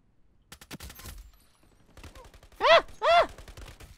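Gunshots ring out in the shooter game Ironsight: a quick rattle of several rapid shots, then a pause and two loud, sharp blasts close together, with muffled voices between.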